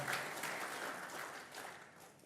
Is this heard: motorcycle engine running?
no